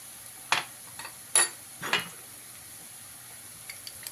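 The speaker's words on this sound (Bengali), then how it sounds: "আদা রসুনের বাটা দিয়ে দিলাম দেড় চামচ দিয়ে দেড় থেকে দু মিনিট ভালো করে আদা রসুনটাকে ভেজে নেব" Ginger garlic paste frying with onions in hot oil in a pan, heard as a quiet sizzle with a few sharp scrapes and clinks of a spoon against the pan.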